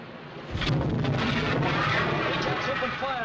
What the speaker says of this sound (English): We're opening fire, sir.